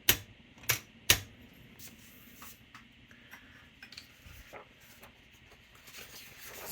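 The paper release lever on a vintage Smith-Corona Galaxie Twelve typewriter gives three sharp, close mechanical clacks at the start, followed by faint light rattles and handling noise.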